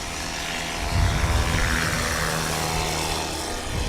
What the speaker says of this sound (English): as Tom Pond rolls up and gives us the first takeoff of Sport Class at Sodbusters 2026